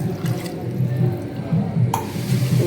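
Water poured into a pot of cooking mutton biryani gives a steady splashing, gurgling flow, close and continuous over a couple of seconds.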